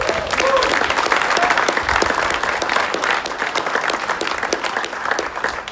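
Dense, steady applause and clapping from a crowd at an outdoor political rally in Virginia, sustained loudly for several seconds with scattered cheers.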